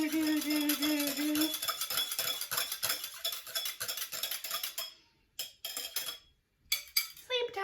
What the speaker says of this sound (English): the yeast and the sugar are dead, and we're gonna whisk it up just a little bit